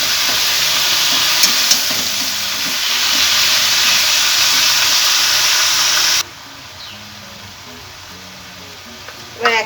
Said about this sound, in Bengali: সবজিগুলোকে তেলের মধ্যে ভালো করে নাড়াচাড়া করে নেব।